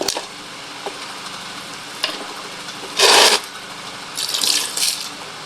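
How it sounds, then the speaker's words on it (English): Water poured into a jug holding tamarind for homemade village juice, heard as a short, bright splashing burst followed by a longer, uneven stream of pouring a second later, close by with no talking. "Guys, see, I'm now pouring water"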